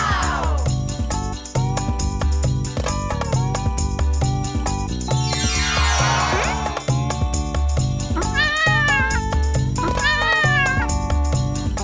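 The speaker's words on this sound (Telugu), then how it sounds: "పిల్లి పిల్లను కిటెన్ అంటారు." Kitten meowing in a children's farm-animal song, its high cries rising over a loud, steady backing of music throughout.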